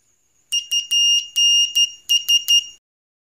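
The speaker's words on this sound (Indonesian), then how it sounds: "saya lebih suka menggunakan tester manual dan saya gunakan buzzernya supaya," The continuity buzzer of a multimeter beeps while probing a Polytron PLD 32T7511 TV with a blank screen. About eight short, shrill, clean tones come in an uneven burst, some clipped and some held, against near silence with no voices.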